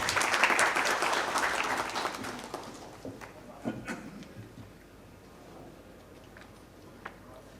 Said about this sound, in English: May we have a huge round of applause for Mr.